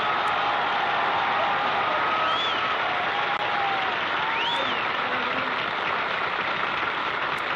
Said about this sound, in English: Not enough applause, but it's not enough.